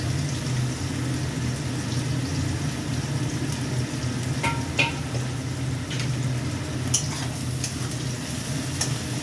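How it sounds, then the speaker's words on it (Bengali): Finely chopped onions frying in oil until reddish-brown make a steady, moderate sizzle with occasional sharp utensil ticks and clinks and a low background hum, with no talking. "পেঁয়াজটাকে আগে আমি একটুখানি লাল লাল করে ভেজে নেব।"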